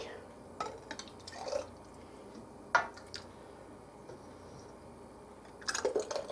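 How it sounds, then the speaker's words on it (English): Hot garlic Roma tomato sauce pours into hot canning jars, giving soft, quiet wet drips and glugs in short bursts separated by pauses, with a faint hint of voices in the background. "The sauce is hot, going into hot jars."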